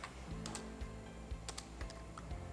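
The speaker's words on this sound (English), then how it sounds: "So let us type" Keys clack on a computer keyboard as a command-line database query is entered, a quiet close-up run of uneven taps with a few short gaps.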